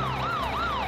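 Cartoon fire truck siren, a loud wailing tone that rises and falls in steady sweeps, heard alone and close.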